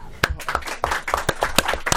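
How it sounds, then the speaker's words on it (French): A studio audience on a live radio show claps in scattered, uneven bursts with a few sharp separate claps, fairly close and moderately loud, with no talking. "On peut l'applaudir"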